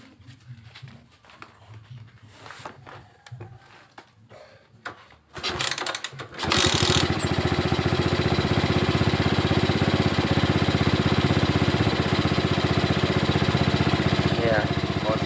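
A motorcycle with a carburetor fault is kicked into life after quieter clattering, then settles into a loud, steady close-up idle for the rest of the stretch.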